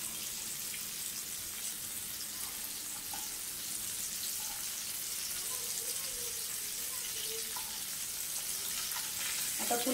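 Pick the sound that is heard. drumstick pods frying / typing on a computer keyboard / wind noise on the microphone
drumstick pods frying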